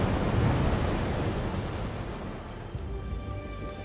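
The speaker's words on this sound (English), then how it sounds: "I'm the ocean." Ocean waves surging in a broad, steady roar of surf that gradually eases and softens over a few seconds, with a faint wind-like hiss and no voices.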